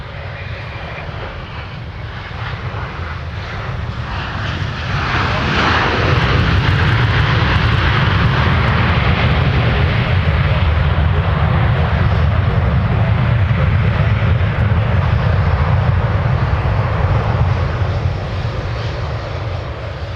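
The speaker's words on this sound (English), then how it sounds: "let's take another look at our arrival that just touched down for Delta" A Delta airliner lands at Minneapolis–St. Paul airport, its engine noise swelling after about five seconds into a loud, sustained low roar with a long reverse-thrust rush before easing slightly near the end.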